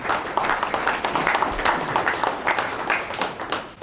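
A large audience claps steadily to welcome a speaker named Todd Furniss to the stage, a dense, continuous round of applause lasting throughout, fairly close and loud.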